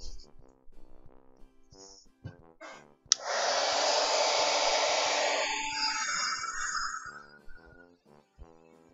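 A heat tool blows loudly for about four seconds while heating ink on paper, its whoosh starting abruptly, with quiet music playing before and after.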